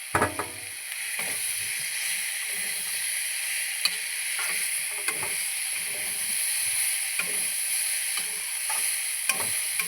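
Soybean chunks and potatoes fry together in a pan, giving a continuous close sizzle broken by repeated scraping and clinking as they are stirred.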